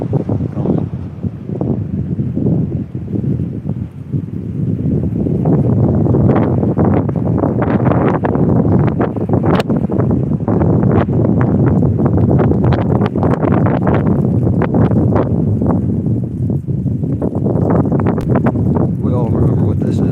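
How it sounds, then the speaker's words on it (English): A big gust of wind buffets the microphone during a morning sidewalk cruise, a loud, sustained roar that swells after a few seconds and keeps rumbling throughout. "Ooh, there's a big wind gust there coming."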